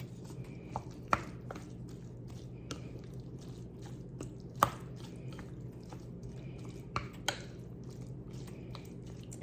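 A cheesy sausage dip with tomatoes being stirred, making soft, wet, squishy sounds mixed with light irregular clicks of the spoon, close by and quiet.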